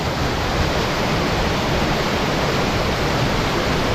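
Close, loud waterfall at Sankhay Dhunga, Chamong, pouring in a dense unbroken roar of water with no other sounds over it.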